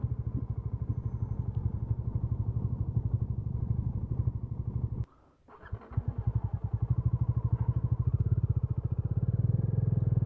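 A motorcycle idles close by on a mountain road trip in Arunachal Pradesh, its engine thumping in a steady rhythm, briefly dipping and stuttering midway before settling back into its loud idle.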